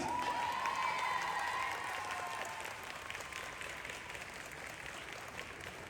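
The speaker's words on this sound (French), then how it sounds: "on refait encore un tonnerre d'applaudissements pour eux" Convention panel audience at a Paris manga and sci-fi show applauds steadily, a few cheers over the clapping early on, then the applause gradually tapers off.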